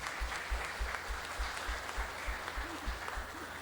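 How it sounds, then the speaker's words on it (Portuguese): Church congregation at a missions service claps together in a steady, rhythmic beat for Jesus, a moderately distant, even pattern of hand claps filling the room with little talk. "bate uma palma bem forte para o Senhor Jesus"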